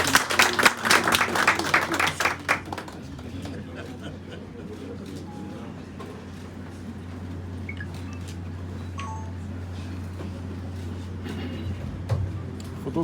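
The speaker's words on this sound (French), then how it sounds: "Pierre-Jean Raymond André, sous vos applaudissements, s'il vous plaît." Audience applause at an official ceremony rings out for the first few seconds, then gives way to a quiet hall with a low hum and faint scattered noises.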